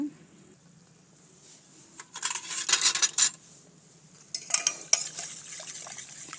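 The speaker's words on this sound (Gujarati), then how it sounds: "તો આપણે સરસ રીતે આ ચણાના લોટને મિક્સ કરી લીધો છે" Gram flour being stirred into buttermilk in a bowl, heard as two bursts of scraping, clinking spoon-against-bowl stirring, moderately close, separated by a quiet pause over a low background hum.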